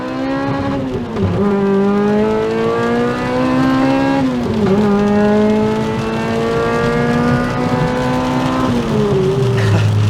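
A Toyota Celica or Honda Accord engine (VVTL-i or i-VTEC) revs hard under acceleration, its pitch climbing steadily, dropping at each gear change, then rising again. The engine is loud and close throughout, with no talking.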